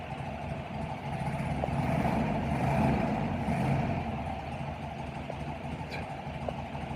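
A cold 1967 Volkswagen Beetle engine runs with a steady low rumble that swells into a moderate rev before settling back to an idle, heard fairly close with no voices over it.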